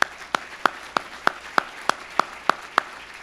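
Applause at a Mizzou Hall of Fame ceremony, heard as sharp, evenly spaced claps, roughly ten in a steady rhythm about three per second, fairly close and distinct over a quiet background.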